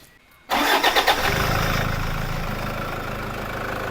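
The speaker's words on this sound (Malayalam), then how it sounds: "പുതിയ ബാറ്ററി ഓക്കെ ഒന്ന് സ്റ്റാർട്ടാക്കാം" A Toyota Fortuner 4x4 fitted with a new battery cranks in a quick burst of starter pulses after a silent moment, then catches and settles into a loud, steady idle.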